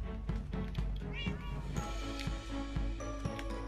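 Minecraft cats meowing in a busy game scene, several short mews rising over steady background music and game noise, fairly close and clear.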